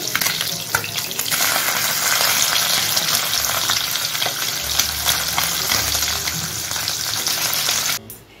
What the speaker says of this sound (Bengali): এখন মাছ আমি অল্প অল্প করে ভেজে নেব